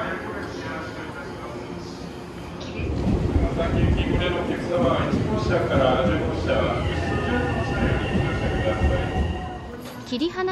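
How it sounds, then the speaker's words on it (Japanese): JR Takasaki Line fifteen-car local train at Kagohara station, Saitama, splitting off its front five E233-series cars from the ten-car E231-series set: a steady rumble of rail and car noise swells after a few seconds, with voices or announcements in the background. "15両編成のこの列車は前5両を切り離します。"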